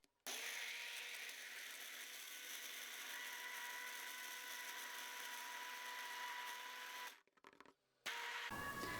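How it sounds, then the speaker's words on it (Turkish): A blender blending chickpeas whirs steadily at high speed for several seconds, then cuts out briefly before starting up again. "Şimdi nohutumu blenderdan geçiriyorum."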